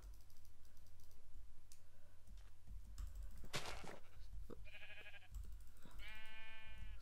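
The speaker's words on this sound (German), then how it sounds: "Da sind Schafe." Sheep bleat in the Minecraft video game, two short wavering bleats among steady keyboard and mouse clicking and faint game effects, with no one speaking.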